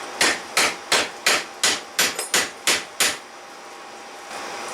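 A hammer whacks a nut on the front axle of a 1987 Suzuki Samurai with about ten sharp metallic blows in a steady, fairly quick rhythm, loud and close, followed by a brief quiet shop hum.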